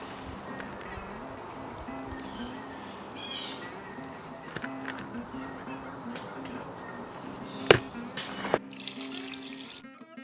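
Water runs from a tap while agate rocks are rinsed, a steady splashing hiss with clinks and knocks of stones, growing louder and harsher toward the end before cutting off, with someone speaking over it.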